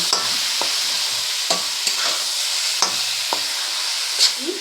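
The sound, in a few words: stir-frying onions and tomatoes with mutton in pan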